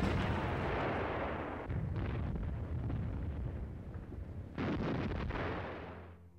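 An artillery barrage rumbles in a World War II battle scene in Crimea, a continuous heavy roar of distant blasts with a few sharper surges, loud and enveloping before fading out at the end.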